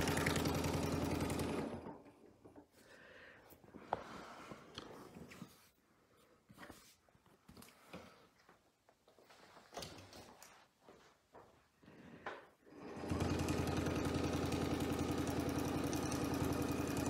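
A sewing machine stitching a quilt runs in loud, steady bursts at the start and end, with quieter handling, tapping and fabric noises in between.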